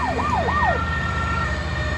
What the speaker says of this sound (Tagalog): Yan na yung fire truck.